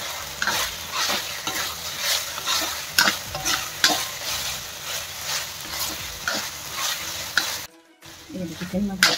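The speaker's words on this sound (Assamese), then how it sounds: "এই দেখিছেন মই ভাজিয়ে আছোঁ প্ৰায় 10 মিনিটমান ভাজিব লাগিব মাংসটো অকণমান ফ্ৰাই হ'ব লাগিব" Chicken pieces frying with raw turmeric sizzle loudly in a pan while a utensil stirs and scrapes in repeated strokes, with a brief pause near the end.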